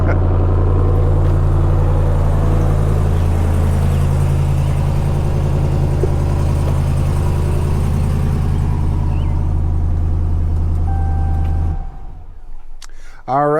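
A 2021 Ram TRX pickup's exhaust after a remote start: a deep, loud, steady idle rumble that cuts off near the end, leaving quieter background sound and a brief rising tone.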